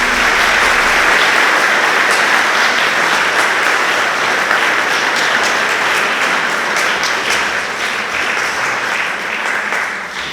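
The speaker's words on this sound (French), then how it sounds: "si on peut l'applaudir au nom de sœur Yamile" Sustained applause from a church congregation for Sister Aleida at a thanksgiving Mass, steady dense clapping filling the room and tapering slightly toward the end.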